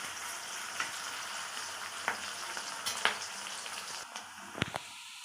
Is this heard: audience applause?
no